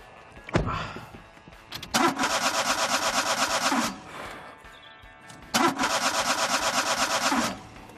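A car engine is cranked and catches twice in a row, each attempt a loud, even rasping churn lasting about two seconds, separated by a short pause, with no talking.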